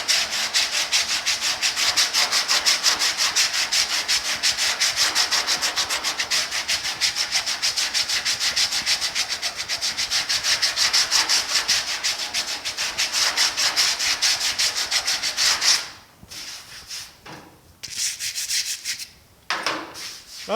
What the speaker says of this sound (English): I'm just trying to let the sandpaper and the board do its job without me pushing down